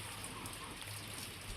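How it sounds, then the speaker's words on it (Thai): Steady rain falling outdoors in a rural Thai forest camp during the rainy season, a soft continuous hiss of drops with no voices over it. "มันนี้ฝนตกพี่น้องเอ้ยนี่"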